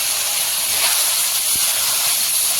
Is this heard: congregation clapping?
no